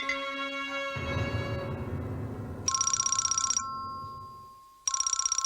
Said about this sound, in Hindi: सुनो, फोन उठा लेना।